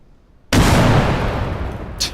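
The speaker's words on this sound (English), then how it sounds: "tell that guy to stop throwing frags" A fragmentation grenade bursts in the tactical shooter Bellum: after a near-silent pause, one loud, sudden blast erupts and decays into a long rumbling roar, followed by a brief sharp crack near the end.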